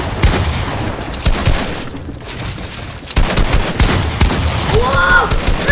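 Dense bursts of gunfire in a video game, loud and continuous with overlapping shots and impacts throughout, close and busy.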